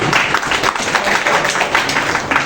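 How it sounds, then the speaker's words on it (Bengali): A training-session audience applauding itself, a dense, continuous wash of many hands clapping at close range, steady and loud throughout. "নিজেদের জন্য একটা তালি"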